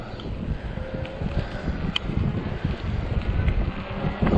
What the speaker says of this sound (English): Oh, the wind is just, bucking down here.